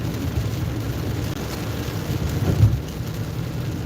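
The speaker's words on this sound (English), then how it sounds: "It's raining. It's gross." Rain falls steadily on a stormy Saturday night as a constant rushing hiss, with a brief louder swell around the middle and no talk.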